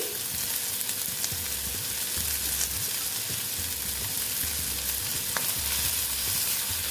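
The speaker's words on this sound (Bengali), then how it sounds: "আদা আর পেঁয়াজটা আমি ভালো মতো ভেজে নিচ্ছি" Grated ginger and onion fry in a pan, giving a continuous close sizzle with occasional light stirring scrapes, steady and unbroken, with nobody speaking.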